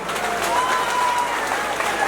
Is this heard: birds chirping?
no